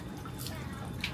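Water poured from a ladle over hands at the purification basin of Naritasan Shinsho-ji temple in Narita, Japan: a faint, brief trickle and splash against a steady low background.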